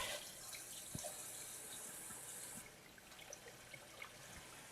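Warm water runs from a kitchen tap over a clogged spray bottle, a steady hiss and trickle heard fairly close for a few seconds, with faint clinks of handling beneath it.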